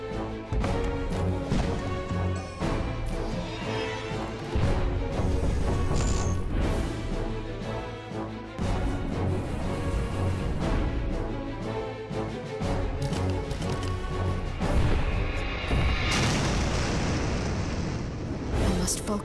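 Cannons firing and blasting in the game Cannon Brawl, loud and continuous with booming impacts and crashes layered over a dense orchestral score throughout.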